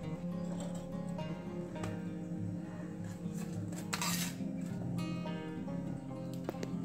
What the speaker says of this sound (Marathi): आता ही प्लेट आपण बाहेर काढून घेऊ।